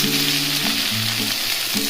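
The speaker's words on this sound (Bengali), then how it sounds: "6টা পেঁয়াজ আছে, এইভাবে কেটে নিয়েছি। 5-6টা তেলের মধ্যে দিয়ে দিচ্ছি।" Six sliced onions sizzle in hot oil in a kadai while a potato-and-onion poppy-seed dish is being cooked, giving a loud, steady close-up frying hiss that runs without pause.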